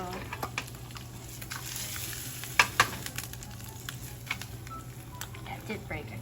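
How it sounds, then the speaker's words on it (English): Eggs fry in foaming butter over moderate heat, a soft continuous sizzle with scattered crackles and a couple of sharp pops, while a person talks over it. "the butter is nicely foaming up and the heat's not too high. I'm going to add my eggs now"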